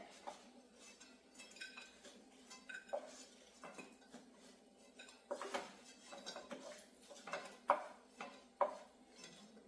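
Fried chicken scooped from a pan onto a plate gives a run of metal utensil scrapes, clinks and clatters against the pan, irregular and moderately close, with no one talking.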